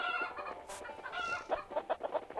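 Chickens cluck in a 1-2-3-4 player party video game, a close, busy run of rapid clucks and squawks that grows choppier and more rhythmic toward the end, with no one talking.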